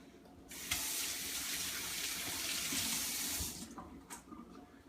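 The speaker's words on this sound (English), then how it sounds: "I'm going over here to wash my hands" A kitchen tap runs for hand washing, making a steady close rush of water for about three seconds that starts abruptly, then cuts off, leaving a few faint drips and clinks.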